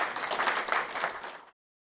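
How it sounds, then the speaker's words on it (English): Audience applause at a UK report launch event on LGBTQ+ career progression, a dense burst of clapping from a crowd lasting about a second and a half before stopping suddenly. "please give her another round of applause"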